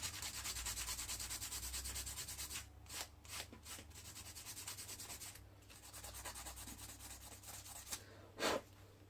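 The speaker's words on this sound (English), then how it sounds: "very gently just sand down the little nubs" Quiet, close sanding of small nubs off a plastic 1/2000 scale H.M.S. Hood model part: soft, irregular rubbing strokes with brief pauses and one sharper scrape near the end.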